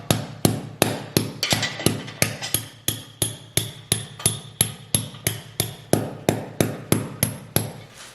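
A hammer thumps a grooved winch spacer into place on a Jeep JK, with about twenty sharp, evenly spaced metallic strikes ringing out close and loud, one roughly every half second, with no voices.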